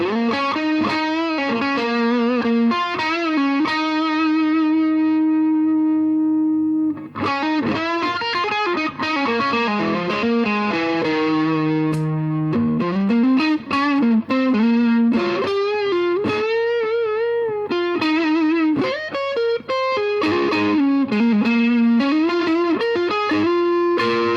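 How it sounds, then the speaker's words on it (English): A Telecaster electric guitar plays chords and lead lines through a Suhr Shiba Drive overdrive pedal, warm, sustained and continuous, with slides and bends, loud and close with no talking. "really versatile range of overdrive"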